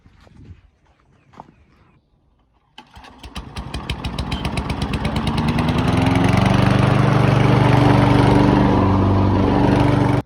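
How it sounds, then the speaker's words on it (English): A lawn mower starts up after a few quiet footsteps and handling sounds, then its engine runs loud and close, rising into a steady throbbing drone as it cuts grass in a yard. "We got some grass to cut."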